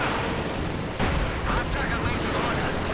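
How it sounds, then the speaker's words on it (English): Panzerwerfer rocket artillery fires in the video game Company of Heroes 2, a rushing launch burst at about one second over continuous battle rumble, with distant booms and other gunfire around it. "Panzerwerfer firing here."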